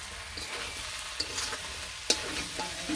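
Chilies and other ingredients fry in a pan in a village kitchen, a steady sizzle with intermittent stirring scrapes and one sharp clack, close and without voices.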